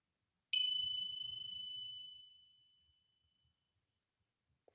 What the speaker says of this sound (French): quand vous entendez le son des cloches